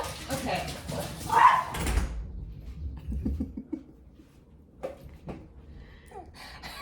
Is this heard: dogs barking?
yes